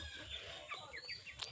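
Chickens let loose inside a mosquito net on a small rural poultry farm give a few short, rising clucks in quick succession, close by over a steady low background hum.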